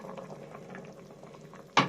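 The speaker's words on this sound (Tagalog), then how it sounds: "Kulo lang natin yan ng mga 10 minutes guys" Spinach and squash simmer in a pot, a soft steady bubbling close by, ending with a sudden louder clatter or splash.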